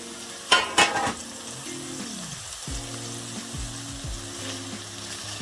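Chicken for a jerk chicken salad frying in a pan, a steady close sizzle running throughout with a couple of sharp clattering knocks near the start as pieces are flipped.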